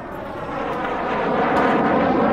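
Airplane engine in The Forest video game: a steady, broad roaring drone that swells slightly louder over a couple of seconds, heard alone without talk.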